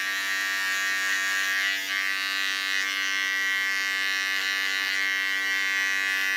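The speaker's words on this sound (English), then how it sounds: "Come once again to my small clipper. Clean the line around the ear." A small electric hair clipper buzzes continuously close up as it trims the hairline around an ear during a haircut, a steady high whine with little change.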